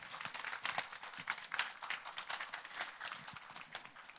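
Audience applause at a Korean talk concert marking the anniversary of the Provisional Government's founding, a moderately dense patter of many hands clapping that swells and dips briefly.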